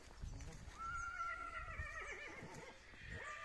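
An eight-year-old mare whinnies in a long, wavering call, fairly faint and a little distant, over low rumbling background noise.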